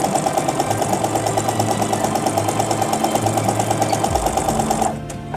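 A sewing machine stitches a seam with its fabric guided along the presser foot, running in a fast, even mechanical clatter for several seconds before slowing and stopping near the end.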